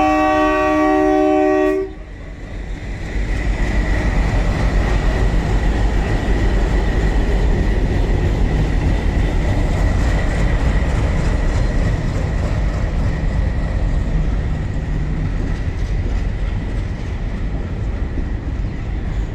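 An ALCO DL560C diesel locomotive with a V16 ALCO 251 engine sounds its horn in a short, loud blast, then its engine and train carry on in a steady, heavy rumble that holds loud and close for the rest of the stretch.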